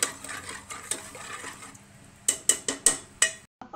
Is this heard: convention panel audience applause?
no